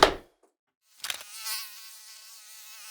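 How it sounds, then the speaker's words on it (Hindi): A mosquito whines close by, a thin steady buzz that follows a brief sound and lingers alone in a quiet room. "बहुत मच्छर है।"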